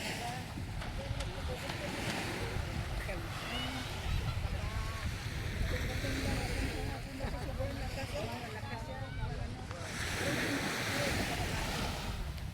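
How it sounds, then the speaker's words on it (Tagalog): Ocean waves wash and roar steadily against a beach at Agno, with wind buffeting the microphone and voices talking intermittently over the surf. "Ang lakas ng alon."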